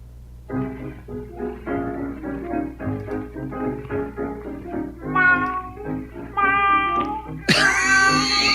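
A cat meows over and over in a steady rhythm of close, drawn-out calls, growing louder and more strained toward the end into a long, high wail, with no talking.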